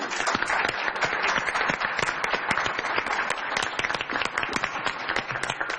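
An audience in Brazil's Chamber of Deputies bursts into sustained applause, dense rapid clapping from many hands filling a large hall at steady volume.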